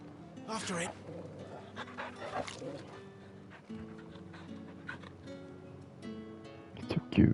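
A dog pants and whimpers in the Final Fantasy XVI video game, with quick, close breaths and small yips over soft game music and a voice.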